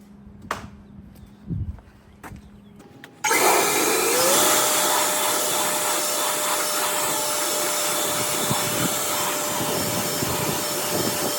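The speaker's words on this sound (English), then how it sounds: "Now I'm just going to blow that clean right now with some air." Compressed air blasts through a nozzle to clean out a John Deere Power Flow blower housing, a few faint knocks first, then a sudden loud, steady hiss that runs on without a break to the end.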